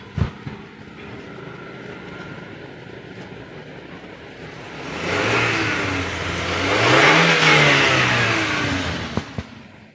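A Suzuki New Carry pickup truck engine idles, rises into two strong revs, the pitch climbing and falling, then settles back, with a few clicks near the end.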